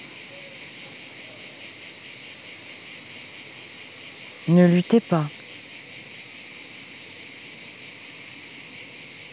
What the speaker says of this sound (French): Et écoutez le chant des grillons